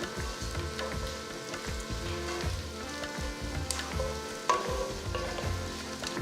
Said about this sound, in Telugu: సో ఇప్పుడు ఉల్లిపాయల్ని మంచి ఒక గోల్డెన్ బ్రౌన్ కలర్కి వచ్చే వరకు దీన్ని వేయించాలన్నమాట